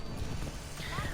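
Horse hooves clip-clopping in a steady gait while riding in a video game, fairly close, under a busy bed of other game sounds.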